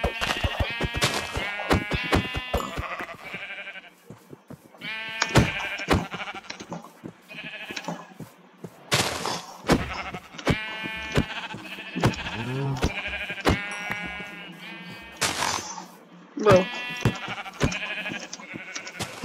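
Sheep in the video game Minecraft bleat again and again, bright harmonic cries loud and close, clustered in bursts over a busy backdrop of other game sounds.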